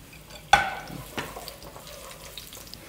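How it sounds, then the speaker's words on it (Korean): A sudden sharp clatter of garlic into an oiled frying pan, then soft crackling and sizzling as it fries, with light stirring noises, close by. "이렇게 지글지글 맛있게 마늘이 익어가고 있습니다."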